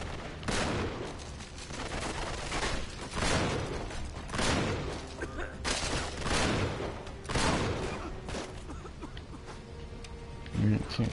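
Gunfire in Uncharted comes as repeated bursts of shots in an irregular rhythm, with distant booms behind them, heard amid speech.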